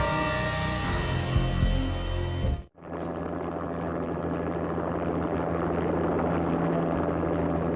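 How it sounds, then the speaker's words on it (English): A helicopter landing in the video game Max Payne: after loud game sound cuts off abruptly, a steady, close rotor and engine drone continues evenly without pause. "An armed helicopter just landed on the manor grounds."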